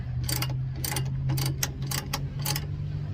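Rapid ratcheting clicks from a car jack being cranked down during a tire change on a Mercedes GLE 350, in about six quick bursts over a low steady hum.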